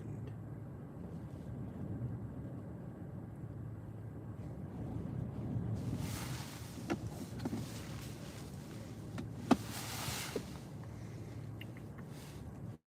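Strong wind roars across the microphone during storm chasing: a steady low rumble that swells into louder gusts and buffeting bursts partway through. No one speaks.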